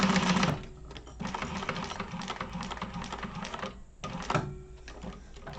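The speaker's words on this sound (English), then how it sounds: "I'm top stitching along this side here." A sewing machine runs close up, top stitching a Zip-N-Grip project, its rapid needle chatter running in bursts with short pauses between stitching runs.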